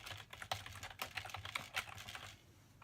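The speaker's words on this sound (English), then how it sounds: "Type some information about the product so people know what it's called" Fingers type on a computer keyboard in quick uneven bursts of clicky keystrokes, close and fairly clear, slowing near the end, with no voices.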